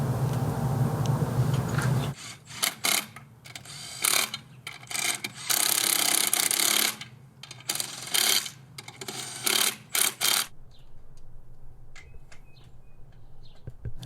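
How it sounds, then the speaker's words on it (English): An impact wrench spins lug nuts onto the wheels of a 1985 IROC Camaro during brake work, giving loud repeated bursts of rattling hammering with short pauses between, fairly close, then quieter background afterward. "Matt using an impact wrench to put on his wheels"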